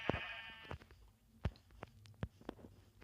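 A sheep bleats in the Minecraft video game, a short wavering bleat followed by several sharp thuddy hits, loud and close with no talking.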